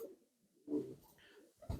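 Pigeons cooing softly in a village loft, a few low, faint coos in short bursts with quiet gaps between.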